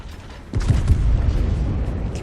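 A Jean Bart battleship in a naval video game fires a salvo of high-explosive shells: a single deep boom followed by a sustained low rumble.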